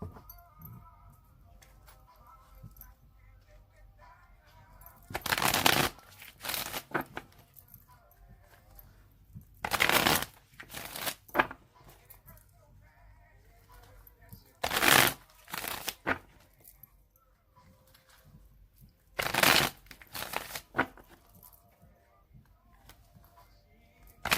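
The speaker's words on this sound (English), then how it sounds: "I'm going to shuffle it 3 more times" Cards being shuffled in several quick riffling bursts spaced a few seconds apart, crisp and close, with quiet handling between them.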